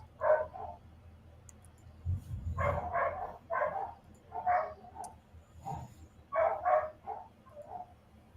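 Muffled barking from several dogs in a kennel room comes in clusters, sounding distant and enclosed, over a low background rumble.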